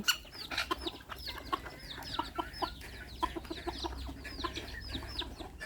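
Bantam chickens at a Chanthaburi bantam farm cluck busily during evening feeding, a dense flock of overlapping close calls sounding continuously without talk.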